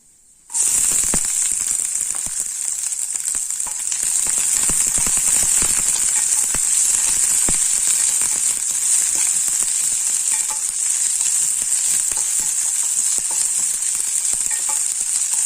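Onions tossed into hot oil in a pan for capsicum rice burst into a loud, steady sizzle after a quiet start, crackling continuously up close with no talk.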